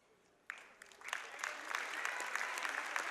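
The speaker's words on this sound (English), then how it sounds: "Well-deserved applause for Marissa Prawl" A crowd in a gym at a girls basketball game breaks into applause after a quiet moment, with clapping swelling quickly and holding steady as a dense, lively patter.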